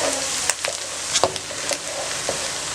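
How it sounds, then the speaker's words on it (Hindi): Onions frying in a pan, a constant close hiss of sizzling oil broken by brief sharp clicks and scrapes of stirring. "और प्याज को बादामी रंग होने तक आपने फ्राई करना है।"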